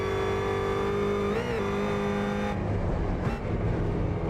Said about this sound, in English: Yeah, supercharger. You can hear the hiss.